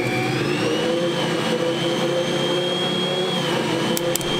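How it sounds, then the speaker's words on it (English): A Bosch stand mixer kneads pizza dough with a steady, loud motor whir that holds for the whole stretch without a break, and a few faint clicks come near the end. "So now what I've got to do is knead it in the mixer for 10 minutes."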